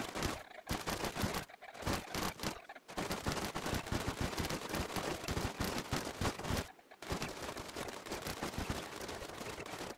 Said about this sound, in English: Wow, okay, that was a lot of shooting.